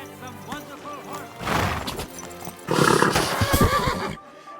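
A horse in the video game Kingdom Come: Deliverance II whinnies twice in long, wavering neighs, with hooves clip-clopping and snorting around them, close and fairly loud before cutting to quiet.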